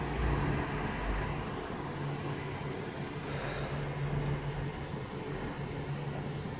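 A TransPennine Express Class 185 train passes through Liverpool South Parkway station, a steady, moderately distant rumbling roar with a faint tonal hum that lasts throughout.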